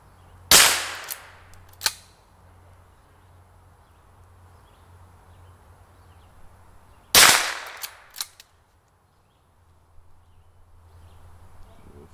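A .22 caliber firearm fires two sharp, loud cracks several seconds apart, each followed by a short echo and a faint clatter, over a quiet outdoor background.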